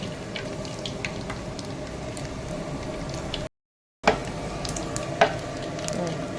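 Whole cinnamon, star anise and bay leaf sizzle steadily in hot oil, a close, even frying crackle with faint pops, briefly cut off by a short silent gap before resuming.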